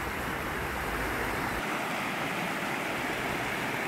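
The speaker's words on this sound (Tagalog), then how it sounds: "Ang sarap ng tunog ng agos ng tubig." Clear river water flowing under a small bridge at Postbridge, Devon, a steady broadband rush close to the microphone, continuous and even throughout with no talk.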